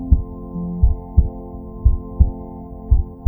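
Heartbeat thumping in a steady, deep double-beat rhythm, about seven pulses, loud and close over a constant low hum with no talk.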